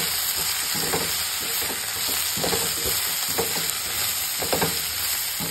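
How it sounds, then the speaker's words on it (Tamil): Ingredients for a tamarind curry sauté in hot oil with a steady close sizzle, broken by occasional stirring scrapes and clicks, no voices. "இதுக்கப்புறம் இதை ஒரு தடவை இப்படி எண்ணெயில் லைட்டாக வதக்கிடுங்க"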